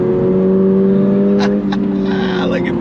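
A 2024 Toyota GR86 Performance Pack engine revs out under hard acceleration, a loud, steady rising drone inside the car, with a person talking over it and brief clicks near the end.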